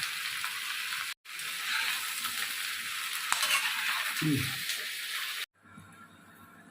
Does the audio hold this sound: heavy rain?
no